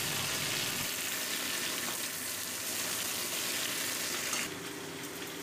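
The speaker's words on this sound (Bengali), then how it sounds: "আলু এবং পটলের টুকরোগুলো মোটামুটি ভাজা হয়ে এসছে" Potato and pointed gourd pieces frying in hot oil for a prawn curry, a steady, close crackling sizzle that eases slightly near the end, with no talking.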